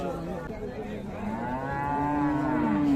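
A Friesian cow moos loudly and close at a cattle market, a long drawn-out low call rising in strength, over a busy background murmur of other animals and people.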